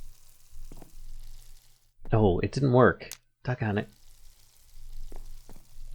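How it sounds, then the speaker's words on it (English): Soft, steady sizzling of food cooking in a Minecraft mod, a faint hiss running under the whole stretch while someone talks loudly in the middle. "I like the little sizzle sounds. They're actually quite nice."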